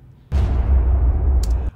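Deep, reverberated cinematic hit with the low-pass filter off: one heavy boom that rings out in a long, loud tail for over a second, keeping some crisp top end, alone.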